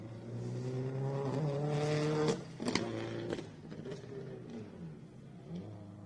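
GD-generation Subaru rally car on a hills rally stage, engine revving hard through rising gear pulls, then a sharp gear change and backing off before building again, loud and close.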